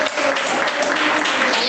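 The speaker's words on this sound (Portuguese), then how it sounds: "Mas palmas glorificam o nome de Jesus." A church congregation clapping together in a dense, steady burst of applause.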